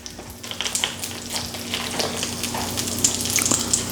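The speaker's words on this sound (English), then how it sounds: "We're gonna get our first patty down. Three pieces of bacon." A burger patty and three strips of bacon sizzle loudly on a griddle, a dense, close crackling hiss with frequent sharp pops over a low steady hum.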